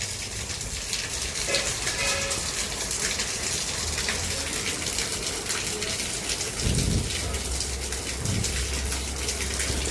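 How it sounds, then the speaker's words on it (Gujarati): Heavy rain pouring down outdoors, a dense, steady hiss of drops that stays loud and unbroken throughout, with a low rumble surfacing near the end. "બહુ ખરાબ વરસાદ."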